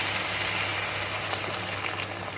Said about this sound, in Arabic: واحط ميه سخنه من الكتل